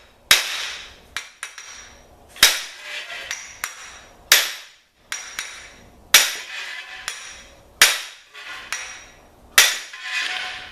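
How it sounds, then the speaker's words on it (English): Heavy metal-on-metal hammer blows on a Corvette spindle during removal, about a dozen sharp ringing strikes in irregular bursts with short pauses, loud and close. "you really have to put some hammer into this one to get these things to come off."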